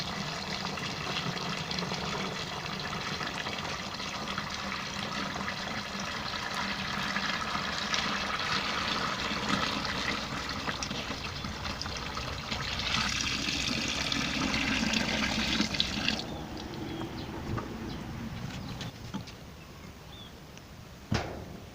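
Rice-washing water being poured slowly into a termite-nest microbe fermentation mix makes a long, steady splashing gush that swells midway and then tapers into lighter trickling near the end, with no talk.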